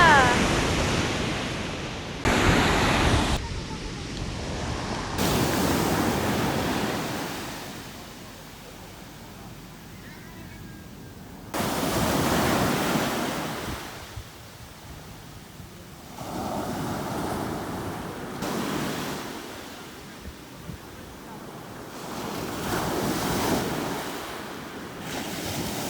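Sea waves surge and wash repeatedly onto a shore in the Philippine countryside, loud and close, with gusts of wind buffeting the microphone and swelling and fading bursts of surf throughout.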